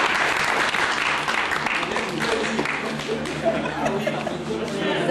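An audience at a formal gathering applauds Mr. Talibé Kanté with dense, continuous clapping and murmured chatter underneath throughout.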